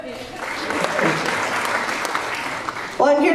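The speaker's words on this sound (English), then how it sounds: "How about a round of applause to people that like New Age philosophy?" Audience applause at a stand-up comedy show for mental health, a dense clapping burst lasting a few seconds before a voice cuts in abruptly near the end.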